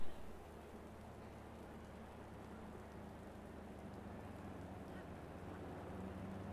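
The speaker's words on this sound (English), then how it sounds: "Just the subtle sound of rain as we get ready to go." Steady, soft rain hiss with a low hum underneath in a racing video game at Imola, continuous and even throughout, no voices.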